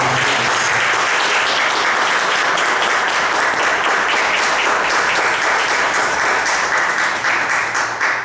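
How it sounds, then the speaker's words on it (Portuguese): A church congregation gives a round of applause during a service, dense and loud clapping sustained for about eight seconds with no break. "Um salve de palmas."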